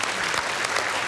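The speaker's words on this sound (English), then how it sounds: "A round of applause" A studio audience claps in a dense, steady round of applause during a cooking competition, brief and fairly loud with no pause.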